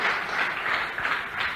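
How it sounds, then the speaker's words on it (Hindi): An audience at a motivational seminar hall claps together in a sustained round of dense applause, steady and moderately loud throughout, rising slightly in waves. "जोरदार तालियां इनके लिए, थैंक यू वेरी मच।"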